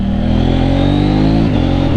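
A 2018 KTM 790 Duke motorcycle engine revs loud and close, a steady throbbing drone that climbs slightly in pitch before dipping near the end.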